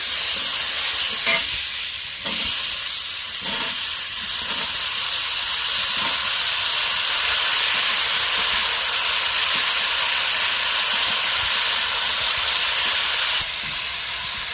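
Potatoes and eggplant, coated in salt and turmeric, fry in hot oil with dried red chilli and whole cumin, giving a steady, loud sizzle and hiss throughout with a few faint stirring knocks.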